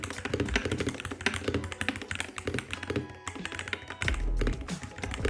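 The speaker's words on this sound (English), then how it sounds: "here is the sound test of this gaming keyboard now." Rapid, continuous clacking of keys on a budget mechanical gaming keyboard, typed fast and close, with a heavier thunk of a larger key near the end.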